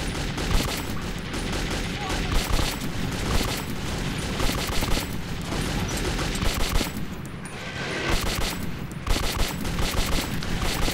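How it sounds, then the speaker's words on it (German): Dense, continuous gunfire in the post-apocalyptic shooter Metro 2033, rapid automatic bursts and overlapping shots filling the whole stretch at steady loudness, with a brief lull midway before firing resumes. "da habe ich nur ins Bein geschossen"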